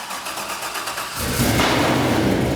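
A Chevy Square Body truck engine cranks briefly, then catches and roars into a steady, loud running rumble that continues to the end.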